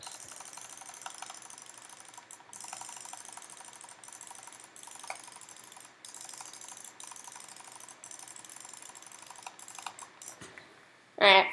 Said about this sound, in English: Jitter clicking.